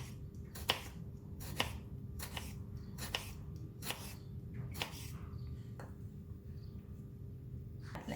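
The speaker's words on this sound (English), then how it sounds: "Cutting tomato, we need a very sharp knife. So I'm going to cut it into half." A very sharp knife slicing a tomato in half on a board for a Thai corn salad, heard as a series of short crisp cuts and taps repeating every second or so, close and fairly quiet.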